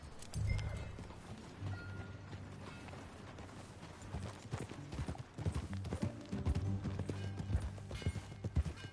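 Steady clip-clop of horse hooves at a walking pace in Red Dead Redemption 2, close by, with creaks and faint background music and ambience.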